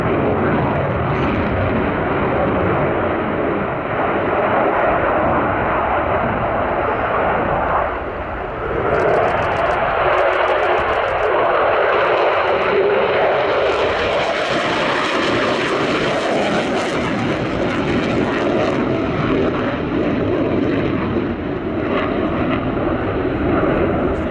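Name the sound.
Su-27 fighter jet engine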